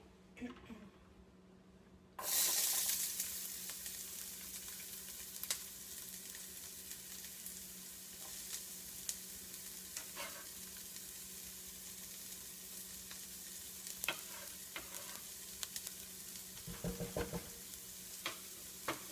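Chopped onion and garlic sauté in a pan on a stovetop, starting quietly and then jumping to a steady, close sizzle that carries on with occasional clicks and stirring scrapes.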